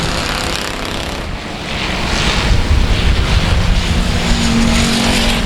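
Race cars roar around South Texas Speedway in a race, a dense continuous engine drone swelling louder midway, heard from a distance with wind buffeting the microphone.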